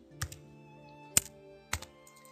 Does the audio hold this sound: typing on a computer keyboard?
yes